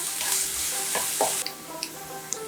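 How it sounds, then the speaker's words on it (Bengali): Thinly sliced onion frying in mustard oil over medium-low flame, a steady close sizzle with stirring scrapes and a few light clinks of the spoon against the pan. "মিডিয়াম টু লো ফ্লেমে আমি পেঁয়াজটা একটু লালচে করে ভেজে নেব।"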